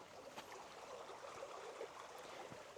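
River flowing into the old Overwater reservoir on the edge of the Lake District, a steady broad rush of water with faint trickling detail, continuous and moderately distant, with no talking.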